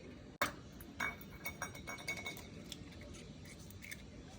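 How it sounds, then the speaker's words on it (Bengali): An egg is cracked open for an omelette, a sharp single crack and clink of shell against a bowl edge, followed by a few softer taps and tinkles in a quiet kitchen. "এই যে ডিমটা ফাটিয়ে নিই"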